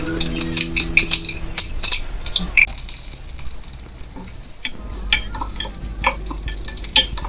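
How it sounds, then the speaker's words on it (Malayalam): Mustard seeds popping in hot oil with dried red chillies and curry leaves tossed in for tempering, sharp crackles and spitting bursts over soft sizzling, a few utensil clinks close by. "ഈ കടുക് പൊട്ടിക്കഴിയുമ്പോൾ ഞാൻ ഇതുണ്ട് രണ്ട് പാറ്റിൽ മുളക് ഇച്ചിരി കറിവേപ്പില ഇത്രയും തളിക്കുവാണ്"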